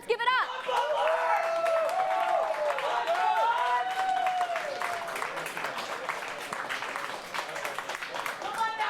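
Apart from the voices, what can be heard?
home crowd applauding at esports championship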